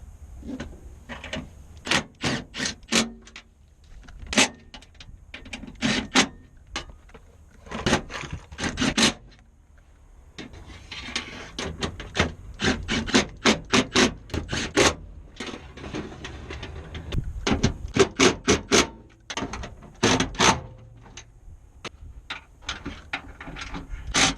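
A wrench tightens the bolts on a car's hybrid battery during replacement, giving many sharp, close ratcheting clicks in quick bursts with short pauses in between, spread over the whole stretch and free of talk.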